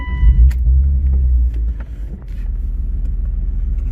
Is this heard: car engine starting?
yes